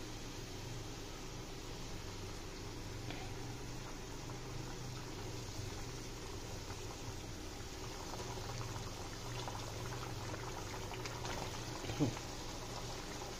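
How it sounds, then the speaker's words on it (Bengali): Water comes to a boil in a pot while koi fish are added for a spicy Bengali curry, a steady bubbling hiss that carries on evenly throughout, with one brief clink near the end. "ফুটতে শুরু করেছে জলটা"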